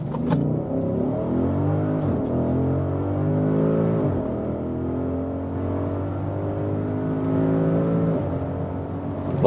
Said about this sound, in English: We start with the SQ8 here on the test track, and let's just floor it out acceleration wise